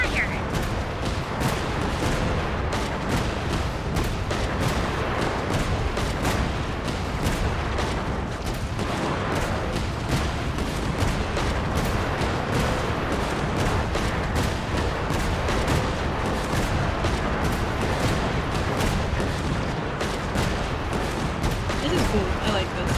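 Rapid continuous firing of bombs by a character in Genshin Impact, a dense steady stream of popping blasts that carries on unbroken throughout at high volume.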